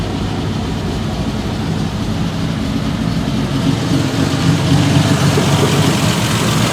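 A carbureted engine idles steadily at just over 1,000 RPM with a low, even rumble that holds constant throughout, loud and close with no voices.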